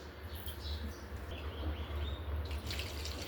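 Tap water runs steadily over one bowl of toor dal being rinsed clean, a continuous close splashing rush with faint higher trickles throughout.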